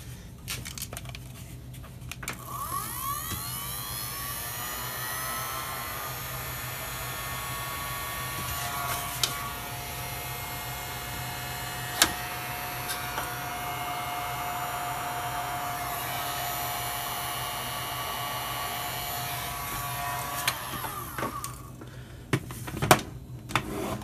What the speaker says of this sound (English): the old heat gun going here